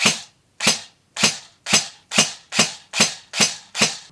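A Classic Army PX9 airsoft SMG firing nine sharp single shots at a steady rhythm of about two per second, each a crisp snap that decays quickly, close and loud in a quiet room.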